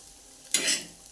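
Crushed green chillies sautéing in oil in a hot pan: quiet at first, then a sudden close burst of sizzling and stirring that swells briefly and fades.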